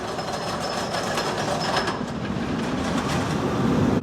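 Twisted Colossus roller coaster at Six Flags Magic Mountain running as a steady, dense rumble of train wheels on track, continuous rattling roar that swells slightly louder near the end with no voices.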